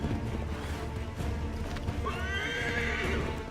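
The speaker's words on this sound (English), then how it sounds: "This is why I don't like using horses in the frontier." A horse in the frontier of Assassin's Creed III gives a clear neigh over steady, muffled hoof clopping, moderately close within the game's ambient soundscape.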